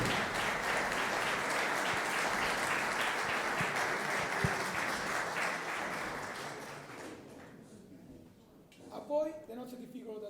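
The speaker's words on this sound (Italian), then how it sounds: "Facciamo un applauso." A crowd bursts into sustained applause at a cavalry brigade band concert, loud and dense for about seven seconds before fading, followed by someone speaking into a microphone.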